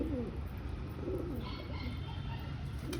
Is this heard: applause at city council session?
no